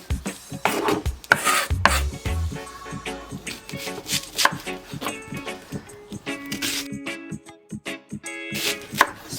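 A knife chops Spanish onion on a cutting board for ackee and saltfish, with loud, close, uneven strikes and scraping in quick bursts.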